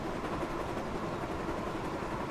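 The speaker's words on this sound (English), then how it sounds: "So I've got a big train of pre-tops coal wagons" Rumbling run of a long train of pre-tops coal wagons in a Sodor railway video game, a steady broadband roll and rattle that holds constant and fairly loud, with no voices.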